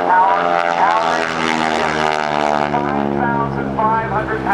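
Nine-cylinder, 600-horsepower radial engine drives the propeller of a 5,500-pound airplane flying at the 2008 NAS Oceana airshow, giving a loud, continuous, rich droning hum with slight pitch shifts throughout.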